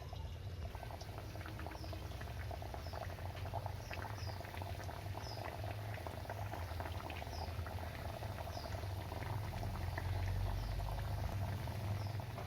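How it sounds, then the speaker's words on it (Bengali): Sweet potato jilipi frying in hot oil on medium heat give a continuous, bubbling crackle with fine spattering pops, steady and moderately quiet throughout. "এবার একটা একটা জিলিপিগুলো দিয়ে ভেজে নেবো"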